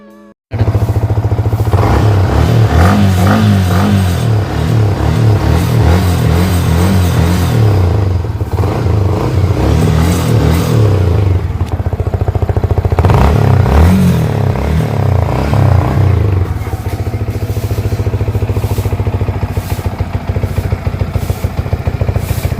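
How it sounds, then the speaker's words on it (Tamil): A motorcycle for sale is kicked into life and revved several times, the engine rising in bursts of throttle around a steady idle, loud and close with no voices. "நான் இந்த மோட்டார் சைக்கிளை உங்களுக்கு ஸ்டார்ட் பண்ணியும் காண்பிக்கிறேன்."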